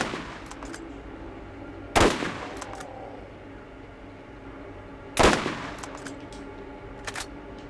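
Gunfire in the video game Zombie Island of Dr. Ned: two sharp, loud shots roughly three seconds apart stand out over a quiet background, with a few fainter pops trailing after them and no talking.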